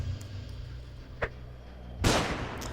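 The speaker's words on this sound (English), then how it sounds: "I think we start with the flashbang" A flashbang grenade goes off in the video game Underrail as a sudden broad burst of noise, preceded by a brief click, standing out clearly over a low steady game ambience.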